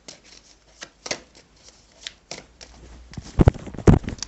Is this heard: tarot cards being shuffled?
yes